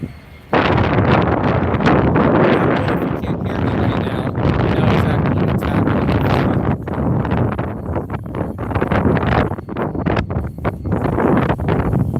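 Strong winter wind in Wyoming buffets the microphone outdoors near an abandoned Phillips 66 station, a loud continuous roar with gusty surges and no talk.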